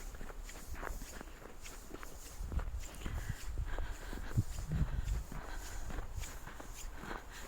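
Footsteps of people out walking for exercise on a calm, mild day, a steady run of close, soft treads repeating without pause and with no talking over them.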